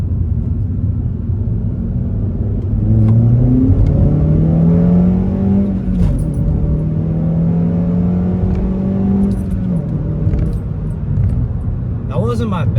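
Car with a manual gearbox accelerating hard from inside the cabin, engine rising in pitch, dropping at each gear shift and climbing again, loud and continuous.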